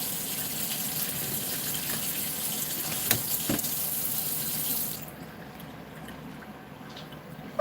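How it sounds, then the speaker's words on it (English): Running kitchen tap water pours steadily over blueberries being rinsed in a sink, a close, continuous gushing that cuts off near the end. "I'm going to go ahead and get these rinsed as well, just in case I need a few extra blueberries"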